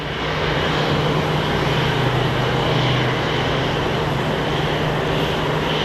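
A large jet, an MD-11 landing at Phoenix Sky Harbor International Airport, gives a loud continuous roar with a steady low engine drone that holds for several seconds without talk.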